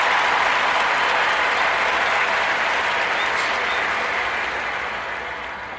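A crowd applauds steadily for a Grammy celebration tribute, a dense, continuous wash of clapping that slowly fades toward the end.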